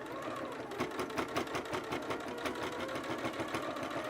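A sewing machine runs steadily while quilting a self-binding table cloth, its rapid needle chatter forming a dense, even rhythm close by, with no talk over it.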